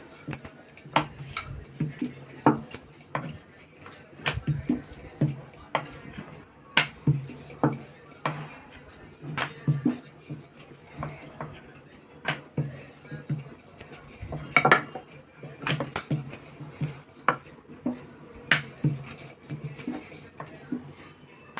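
Rolled puri dough is cut into small rounds, with a steady run of light taps and clinks against the board, irregular and near.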